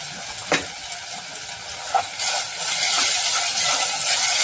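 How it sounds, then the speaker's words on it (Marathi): Carrot, tomato and ginger-garlic paste sauté in a pan for a one-pot bhakri and rice dish, with a soft sizzle that swells in the second half and a few sharp clinks and scrapes of a spoon on metal. "परतून घेऊया."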